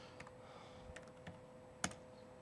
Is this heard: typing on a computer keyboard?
yes